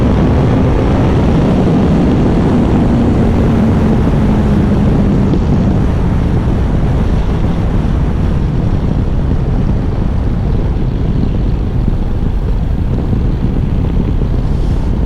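A motorcycle on the road between rain showers, with a constant loud rush of wind buffeting the microphone over a low, steady engine drone.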